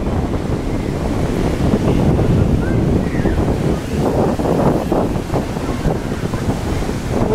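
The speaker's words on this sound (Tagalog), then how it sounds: "Taas ng alon ba eh." Big ocean waves surge and break in loud, continuous surf, with heavy wind buffeting the microphone throughout; no clear voices stand out over the roar.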